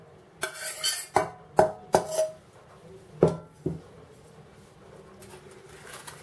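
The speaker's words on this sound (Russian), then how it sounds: "Теперь смешиваем картофель с фаршем." A utensil knocking against a bowl while mashed potato is mixed with minced meat: about six distinct close clinks in an uneven rhythm, then quiet.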